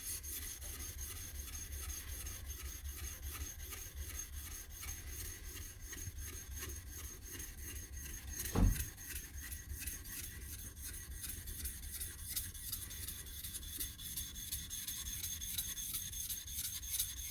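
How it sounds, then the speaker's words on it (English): Steady rasping of a blade bevel being ground and flattened toward the shinogi, a continuous fine scraping texture throughout with one brief louder knock midway and no talk. "I need to flatten the bevel and grind the material which is in the middle of the bevel"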